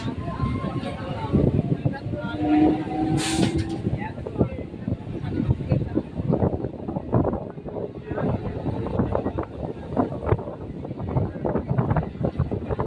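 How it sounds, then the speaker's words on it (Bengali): A local train pulls out of a station on the Bali to Bardhaman chord line, its wheels clattering in a quickening rhythm under steady rumble and wind noise, fairly loud and close, with a voice speaking over it. "ট্রেন এখন হাজিগড় স্টেশন ছেড়ে বেরিয়ে যাচ্ছে"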